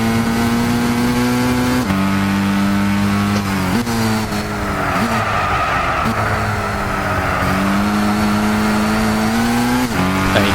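Race car engine in Gran Turismo 6, revving hard and climbing through the gears with steady harmonic drones and brief pitch drops at each shift, loud and continuous with no talk.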